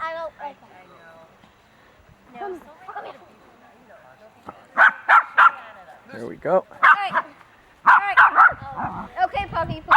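Several dogs bark and yip at a puppy reunion, with sharp repeated barks in bursts growing busier toward the end, mixed with whimpers while a person talks nearby.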